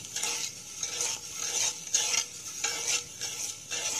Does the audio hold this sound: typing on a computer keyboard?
no